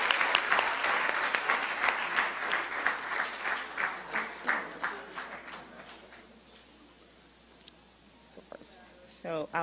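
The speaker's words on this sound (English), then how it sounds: "Let's give them one more round of applause." Applause from the conference audience starts dense and then thins into scattered claps that fade out, followed by a short spoken voice at the end.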